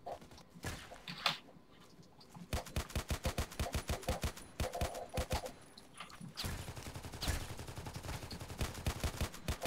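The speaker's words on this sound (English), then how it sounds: "Let's try out this pistol real quick." Pistol fire from an FNP 45T in the online shooter Contract Wars, a long series of sharp, rapid shots in quick bursts and single cracks, loud and close, with game ambience between them.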